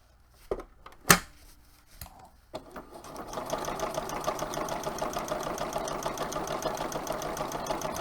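A few sharp clicks and knocks, then a sewing machine starts and stitches continuously at an even, rapid rhythm, close and moderately loud.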